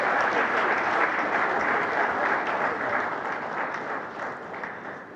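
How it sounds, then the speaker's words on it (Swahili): Sustained applause from an audience at a five-star hotel opening ceremony in Arusha with the president present, a dense, steady clatter of many hands that holds strong for several seconds and slowly tapers toward the end. "Mbona siyasikii makofi jamani?"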